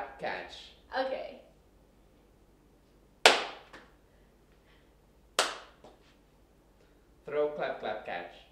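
Single sharp hand claps in a throw-clap-catch game, three crisp isolated claps spaced a couple of seconds apart, close and loud, with people talking between them.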